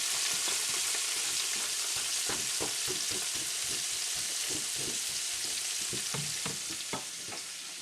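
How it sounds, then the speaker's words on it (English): Food fries in a hot pot of oil for a fresh tomato sauce, a steady loud sizzle with bursts of crackling and stirring scrapes, up close and with no voices. "And we add it to a hot pot of oil."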